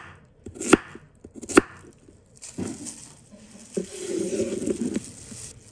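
A knife chops Chinese yam on a cutting board in a few sharp, separated strikes, then a softer stretch of rustling and scraping close by.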